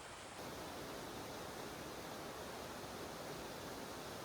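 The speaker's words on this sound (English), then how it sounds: "It's not a huge waterfall, but it's a waterfall nonetheless." A small waterfall in the city of Tbilisi sends out a continuous broadband rush of falling water, steady and even from start to finish, heard fairly close with no voices.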